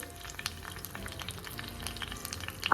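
Light sizzling and crackling of curry leaves in hot oil, soft and close, with small pops scattered throughout.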